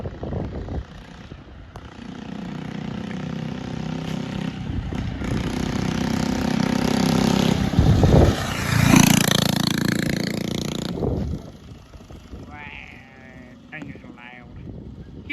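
A friend's loud mini bike engine runs nearby with a rough, droning roar that swells and fades as it passes, then settles into lower rumbling while people talk.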